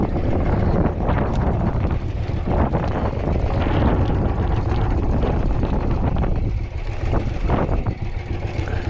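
Steady, loud wind roaring across the microphone outdoors, continuous broadband rush with gusts and no pauses, over a low rumbling motor.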